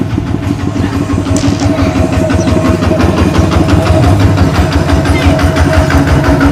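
A train rumbles steadily with a rhythmic clatter of wheels on rails and a low engine drone, continuous and fairly loud throughout.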